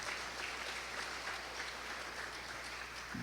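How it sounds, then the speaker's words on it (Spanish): A church congregation gives a round of applause after a scripture reading, a short, even patter of many hands clapping at moderate, steady loudness with no voices over it. "Démosle un aplauso a la palabra de Dios."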